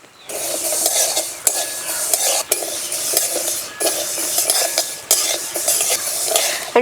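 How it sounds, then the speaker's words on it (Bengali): Mung dal dry-roasting in a pan with no oil, a loud steady grainy hiss of lentils being stirred, broken by regular scraping sweeps of the spoon across the pan. "ডাল আমি শুকনো খোলায় ভেজে নিচ্ছি।"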